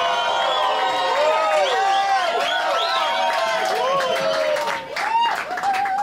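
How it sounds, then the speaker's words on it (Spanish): Studio audience on a Spanish-language comedy talk show applauds and cheers a guest, a dense, steady wash of many hands with loud excited voices and whistle-like shouts rising over it, dipping briefly near the end. "Pido un aplauso muy enorme y grande para el señor Andrés Ciro Martínez"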